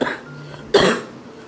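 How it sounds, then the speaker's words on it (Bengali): A single sharp cough from a woman at home, sudden and close, following a brief quieter breathy moment. "আর তো কাশি বলছে যে আমাকে ছেড়ে যাবেই না"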